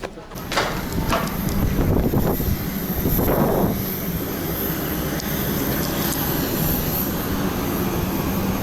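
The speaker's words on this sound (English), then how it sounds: "Day trip by plane, Moscow to Kazan." Inside a passenger jet on a flight from Moscow to Kazan, a loud, steady engine roar and rushing air fill the cabin, with brief bursts of rumble and knocking early on.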